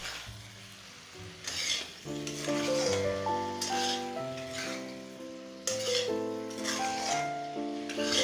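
A paneer curry with fried potato sizzles in a pan while being stirred, a continuous frying hiss with soft scraping, heard beneath louder background music.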